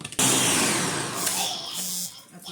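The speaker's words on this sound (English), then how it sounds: "So we're going to blend it, taste it," A blender whirs loudly and steadily as it purées a mango drink made with tajin and water, a continuous motor roar with a brief pause near the end.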